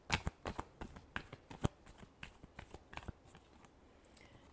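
Tarot cards are shuffled in a quick, close series of crisp riffling slaps and flutters, with soft patter between the bursts.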